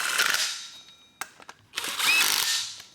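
A 13mm socket tool snugs down pulley bolts on a Ford 5.4L 3V engine during front accessory assembly, with two close whirring bursts of fast mechanical rattling separated by a few sharp ticks.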